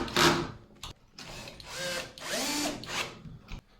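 Power drill driving large-headed pocket hole screws into timber for a budget woodworking workbench, several close, loud whirring bursts with brief pauses between them.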